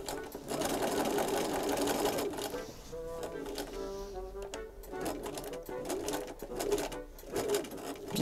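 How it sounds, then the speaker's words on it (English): A sewing machine top stitches fabric while making a chemise, running in a fast steady whir with brief slowdowns and a short reverse-stitch change partway through, close and loud, a faint voice occasionally underneath. "I'm just going to put in a few reverse stitches before I pivot around to really reinforce this point where I've cut the fabric"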